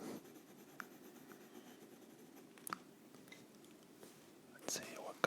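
Colored pencil scratching across a coloring book page, soft close-up strokes with a few sharper taps, quiet and intimate under faint whispered talk.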